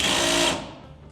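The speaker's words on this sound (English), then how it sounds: "Just have a 9/16 holding it and 9/16 taking it off from down here." A 9/16 wrench loosens a sway bar link nut on a 1966 Mustang front suspension, giving a short, loud burst of whirring, grinding metal for about half a second that quickly fades.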